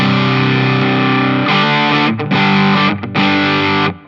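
An electric guitar runs through the Fulltone GT-500 pedal's distortion stage feeding its boost, playing loud, thick, saturated sustained chords that cut off briefly a couple of times before ringing out again.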